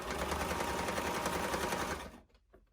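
Sewing machine stitching a sherpa plush pillow, a rapid continuous mechanical whir at close range that runs for about two seconds and then stops abruptly, followed by faint handling noise.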